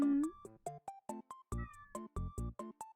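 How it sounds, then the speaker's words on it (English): A pet cat named Toast meows repeatedly and insistently at close range, a quick string of about a dozen short, loud, voiced cries with brief gaps between them, heard alone without talk. "How do you not hear this cat?"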